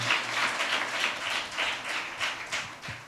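A church audience at an IPC Peniel Church anniversary in Kerala claps after a story. The applause is a moderate, fairly rhythmic patter of many hands, continuous and close, with no talking.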